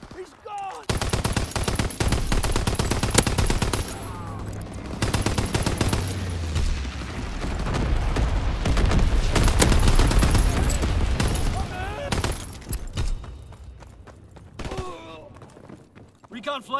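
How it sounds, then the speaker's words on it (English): Sustained automatic gunfire from a strafing run in the video game Call of Duty: WWII, loud dense bursts with brief pauses and rumbling low booms, running through most of the stretch, with game voice lines heard over it. "Strafing run inbound."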